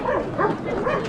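A German Shepherd at an outdoor dog show gives a short burst of close, loud barking and yipping that lasts about a second.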